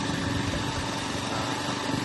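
A motorbike engine running steadily close by, a continuous buzzing drone that holds the same loudness throughout.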